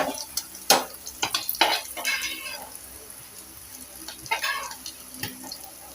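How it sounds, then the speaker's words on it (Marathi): Mandeli fish frying in hot oil, with a soft sizzle beneath repeated sharp clinks and scrapes of a utensil against the pan, irregular clatters across the span and a faint voice in the background. "असे मांदेली मी सर्व फ्राय करून घेते."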